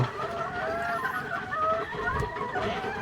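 Hens clucking in a steady, overlapping chatter close by, with soft low rustling underneath; no one speaks.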